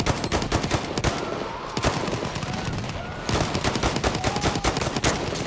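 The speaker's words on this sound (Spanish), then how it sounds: "¡Ametralladora enemiga!" Enemy machine gun fire rattles in rapid, sustained bursts in the video game Battlefield 1, with dense sharp reports and some heavier shots, loud and continuous with no voices.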